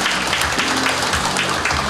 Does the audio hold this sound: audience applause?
yes